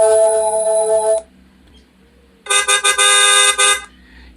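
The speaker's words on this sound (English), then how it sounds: "Traffic jam, people always honking their horns" An AI-generated car horn sound effect: two loud, sustained honks with a short quiet gap between them, the second one pulsing slightly.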